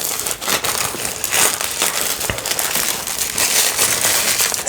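Plastic wrapping on a newly unboxed tarot deck crinkles and crackles continuously at close range, a dense, steady crumpling with no talk over it.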